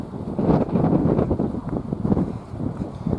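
Incessant spring wind in a garden buffets the microphone with a steady, low rumbling roar that swells and eases continuously, close and fairly loud, without any speech.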